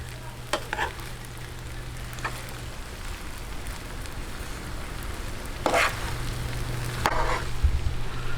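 Chicken sisig is stirred with mayonnaise in a pan, giving a steady low sizzle broken by a few sharp scrapes and clacks of the utensil against the pan, with no talking.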